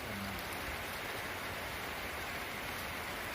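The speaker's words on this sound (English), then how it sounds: "It's raining." Rain falls in a steady, even hiss with no breaks, a soft wash of noise without distinct drops or other sounds.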